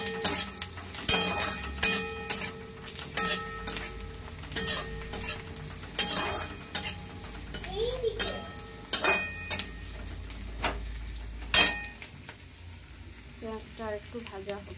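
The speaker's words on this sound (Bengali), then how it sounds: "পেঁয়াজটা আর একটু ভাজা হচ্ছে" Onion frying in a pan on a home stove, with steady sizzling broken by repeated sharp stirring scrapes and clinks of a utensil against the pan, close and fairly loud, with no talk.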